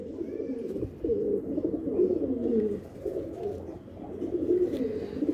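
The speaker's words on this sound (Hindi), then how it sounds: "ये मेरा दुबाज कबूतर है हरा, जिसके मैं बच्चे लेता हूँ" A green Dubaz Madrasi pigeon cooing close by, a steady run of soft, low, throaty coos that rise and fall in rhythm and repeat without a break, with faint background noise.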